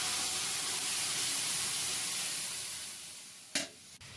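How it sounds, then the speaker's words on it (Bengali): Lentil dal with prawns is poured into a pan of reddened fried onions, giving a steady close hissing sizzle that fades gradually, followed by a couple of brief utensil knocks. "পেঁয়াজটা লাল লাল হয়ে গেছে, এবার আমি ডালটা ঢেলে দেব।"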